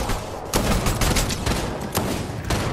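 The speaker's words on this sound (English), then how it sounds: "they're in the field shooting at me, Tyler." Heavy enemy gunfire in a multiplayer trios shooter match, with dense bursts and fusillades cracking loudly and continuously, sharper volleys punctuating the barrage near the listener.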